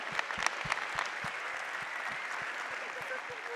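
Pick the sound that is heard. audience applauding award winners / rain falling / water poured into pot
audience applauding award winners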